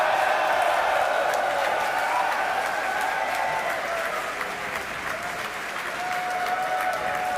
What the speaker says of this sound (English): It looks like we got a crowd at our Hawthorne, California location.